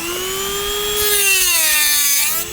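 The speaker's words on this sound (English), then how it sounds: "Use the Dremel tool and try not to cut yourself with it." A Dremel rotary tool cuts into a piece of starboard plastic on a 42-foot Freeman boat, a loud, close, steady high whine that rises in grind partway through and then eases at the end.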